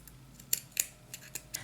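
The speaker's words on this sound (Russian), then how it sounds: "И теперь я обрезаю белую нитку." Scissors snip white yarn during crochet, several quick sharp clicks in an irregular sequence, close and fairly quiet.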